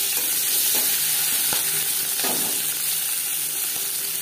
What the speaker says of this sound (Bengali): মাছ ভেজে নেওয়া কড়াইতে আবারও তেল দিয়েছি। দিয়ে দেবো পেঁয়াজ কুচি